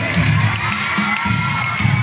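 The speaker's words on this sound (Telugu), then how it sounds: "గట్టిగా క్లాప్స్ కొట్టాలి" Crowd of schoolchildren at a Republic Day celebration cheering and shouting steadily, a dense, continuous roar with pulsing bursts, applause blended in.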